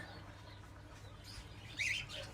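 Pet finches in a bird shop chirp in brief high tweets, a few scattered calls over a quiet indoor hum, one call louder near the end.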